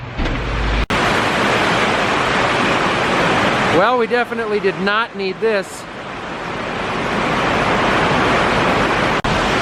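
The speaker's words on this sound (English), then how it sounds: "It's raining pretty hard right now." Heavy pouring rain at a farm where a new Sukup grain bin is being built and a tractor is being unhooked. A loud, constant roar fills the whole clip, with someone speaking briefly partway through.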